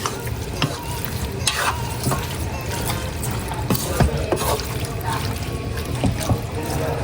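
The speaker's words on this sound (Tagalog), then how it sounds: "Ito po ay lalagyan ko po ng bawang at saka po ng sibuyas. Tapos po ay ng dahon ng laurel." Garlic, onion, bay leaf and chicken stirred in a hot pan: steady sizzling and frying with repeated scraping and clinking of the spoon against the pan, loud and close throughout.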